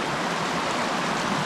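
A creek flows with a steady, close rushing and gurgling of water over sand and gravel, continuous and unbroken, with no voices.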